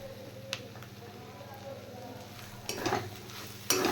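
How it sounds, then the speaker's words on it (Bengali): Paratha filling being stirred with a little tomato sauce in a lightly oiled pan, a soft sizzle under a few sharp scraping clinks of a spoon against metal, with louder stirring bursts toward the end. "এবার ভালো করে মিশিয়ে নেব পুরোটা"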